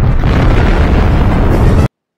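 A bomb explosion from the film Star Wars: Attack of the Clones erupts as a loud, sustained roaring blast lasting nearly two seconds before cutting off abruptly into silence.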